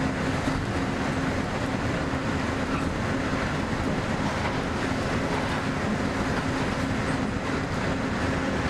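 A steady, continuous rumble of the Monorail Orange gliding through the Magic Kingdom in Disneyland Adventures, an even droning ride with a faint hum and no voices.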